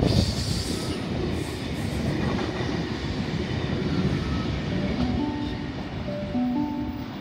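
A Sydney train rolls into platform 3 at Lidcombe station with a deep rumble and rattle, high squealing wheels coming in toward the end.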